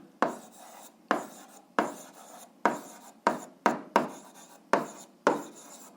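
A pen or pencil writes by hand on paper, about nine quick scratchy strokes in an uneven rhythm, close and fairly quiet, with near silence between them and no talk.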